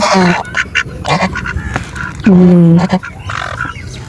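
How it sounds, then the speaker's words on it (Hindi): A couple of ducks quack in loud, close bursts, one long harsh call standing out midway, with other birds such as peafowl nearby and a faint voice in the background. "ये डक्स हैं, डिफरेंट हैं, कपल ऑफ डक्स।"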